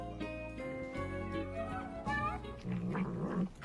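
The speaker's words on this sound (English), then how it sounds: "It's the cat eating the red pepper." A cat growls and grumbles steadily while chewing red bell pepper, a low rough rumble with some wet crunching, close by and loud, with brief pauses.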